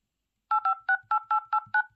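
A rapid series of eight short electronic keypad beeps, each a dual-pitched tone, pressed in quick, fairly even succession.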